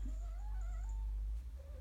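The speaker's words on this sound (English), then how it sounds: "that's our cat, Mr. Tinkles" A pet cat named Mr. Tinkles meows in a drawn-out, wavering call indoors, fairly close and clear, with a low steady hum underneath.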